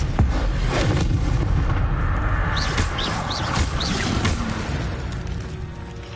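Spell combat in the PS5 game Hogwarts Legacy: loud, dense magical blasts with crackling bursts and booming impacts fill the whole stretch, layered over a continuous rumbling game soundscape.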